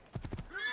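Horse hooves clip-clop in Assassin's Creed 2: four quick, evenly spaced beats close up, followed by a brief rising tonal sound as the gallop ends.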